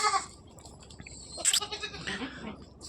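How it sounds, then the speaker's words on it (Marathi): A four-tooth purebred Beetal goat lets out a short bleat mid-clip, close and fairly quiet, amid faint background noise with no talking. "हा आपला 4 दात बिट्टल"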